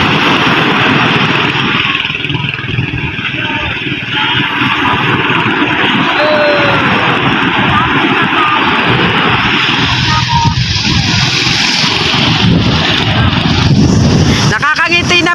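A motorized bangka pulls away, its engine droning loud and steady throughout with people talking over it and a rising surge near the end.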